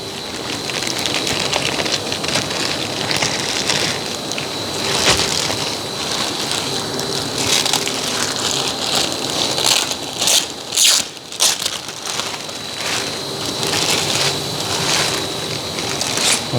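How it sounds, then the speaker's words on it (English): Plastic packaging is pulled and peeled off a Bambu Lab H2C 3D printer, making a continuous close crinkling and rustling with a few sharper crackles partway through. "Now we'll go ahead and get all of the plastic undone and removed."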